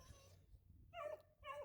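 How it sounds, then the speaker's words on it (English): A dog barks and whimpers in the background, two short yelps heard faintly and at a distance over a low rumble. "sorry about the dog in the background."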